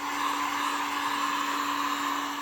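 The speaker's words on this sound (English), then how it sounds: "Warming the panel up with a heat gun will give me a better chance of saving this crease dent." A heat gun warms an aluminium body panel on a Bentley during paintless dent repair of a crease dent, giving a steady close-up blowing whoosh with a constant motor whine and no talking.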